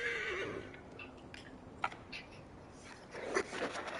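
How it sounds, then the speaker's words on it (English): A horse whinnies briefly and faintly at the start in Assassin's Creed Valhalla on PS5, followed by soft scattered shuffling and clopping noises. "I didn't mean to call the horse"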